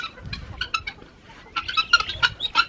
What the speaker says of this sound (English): So these are the guineas.